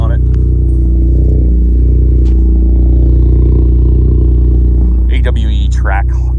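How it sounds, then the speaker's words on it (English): A modified Ford Focus ST with an AWE track exhaust and a high-flow catted 200-cell downpipe idles high and loud during a cold start, a deep steady drone with some clatter, a voice speaking over it near the end. "Can you hear the cold start on it?"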